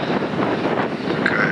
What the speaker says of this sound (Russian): Еще березы шелестят. Ветер прохладный такой, ветерок теплый.